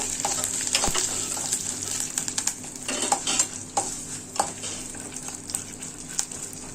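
Peanuts and chillies sizzle and crackle in hot oil, with a spoon repeatedly scraping and stirring the pan up close.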